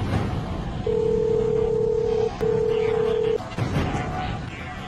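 A steady electronic telephone dialing tone sounds in two long stretches with a brief break between, over a noisy background with faint voices.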